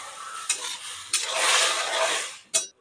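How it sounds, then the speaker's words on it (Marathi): Paneer sizzles as it is sautéed in a hot pan, with a spatula stirring and scraping against the metal in sharp, repeated clinks and bursts of frying hiss. "दोन मिनटापर्यंत पनीर परतून घेतलं"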